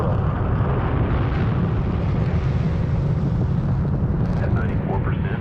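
A rocket launching for the moon roars with a steady, dense, broadband rumble that holds at full loudness throughout, with no pauses or voices breaking through.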